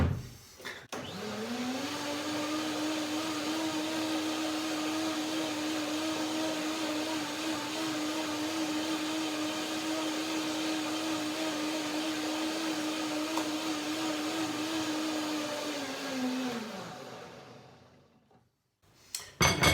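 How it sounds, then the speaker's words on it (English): A blender whirs steadily for about sixteen seconds, puréeing macadamia nuts into a smooth cream, then winds down to silence; the motor hum is loud and close with no talk over it. "1 more blending."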